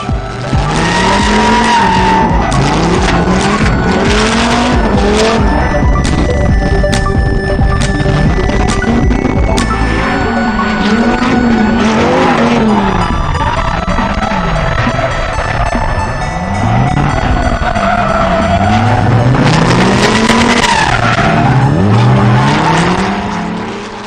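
Drift car at a competition spinning out, its engine roaring loud and continuous with long screeching tire squeals and skids rising and falling throughout, no voices.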